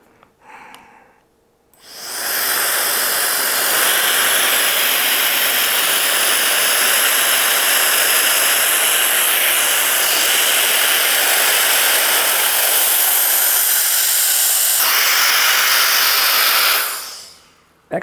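A mini electric air duster whirs loudly and steadily as it pulls air out of a storage bag, a close, continuous jet-like hiss that starts abruptly, shifts pitch slightly partway through, and cuts off at the end.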